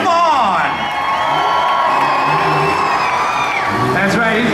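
Grandstand crowd at a county fair tuff truck race cheers and whoops loudly and steadily, with shouts and yells rising over a continuous roar, and an announcer talking through it.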